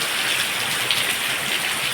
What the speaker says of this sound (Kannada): ಜೋರು ಮಳೆ ಬಂತು